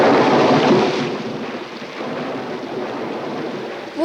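A thunderstorm in a television comedy: a loud rolling rumble of thunder that swells, then fades into a steady wash of rain and wind.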